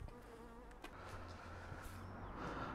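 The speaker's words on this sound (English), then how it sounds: "bees," Honeybees buzzing outdoors in a historic village, a steady close drone with faint passing hums and a low continuous background rumble, no talking.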